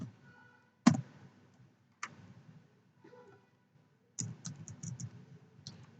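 Scattered keystrokes on a computer keyboard as code is typed, one sharp tap followed by sparse single clicks and then a quick cluster near the end, close and fairly quiet in an otherwise silent room.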